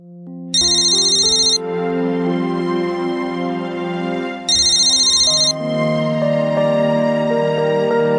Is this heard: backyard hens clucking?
no